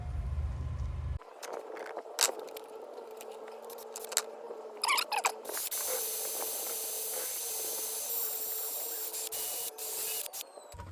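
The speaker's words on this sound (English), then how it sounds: "scrape all this rust off of this with a wire brush" Wire brush scrubbing rust from rear brake hardware on a 2007 Honda Accord, hissy rasping strokes in bursts, faint at first and growing into sustained scraping, close by with no voices.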